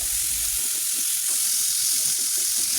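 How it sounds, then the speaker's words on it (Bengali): Chopped onions fry in oil in a pan, giving a steady, even hiss of sizzling that carries on throughout without a break, with no voices heard over it. "পেঁয়াজটা কিছুক্ষণ ভেজে নিতে হবে।"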